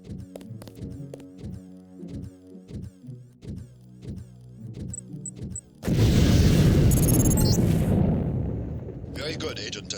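A lamp mine detonates in Deus Ex training: metallic clanks and rhythmic mechanical knocks, then a sudden loud explosion with a sustained rumbling roar that fades into electronic chirps.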